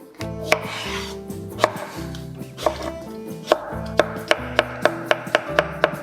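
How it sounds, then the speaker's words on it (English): A knife dices pickle slices on a cutting board for a deviled egg mix, giving a run of sharp chopping knocks that speed into a quick steady rhythm, close and clear, over soft background music. "So I'm gonna dice this up and toss it in our mix."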